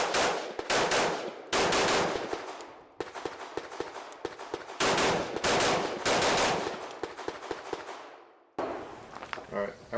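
A CZ Bren 2 rifle fires at an outdoor range, with loud, close strings of rapid shots in several bursts separated by short pauses and a voice speaking briefly near the end.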